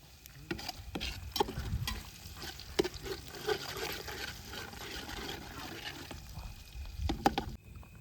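Onion stirred in a frying pan over a steady sizzle, with intermittent scraping clicks of the spoon against the pan and occasional louder knocks.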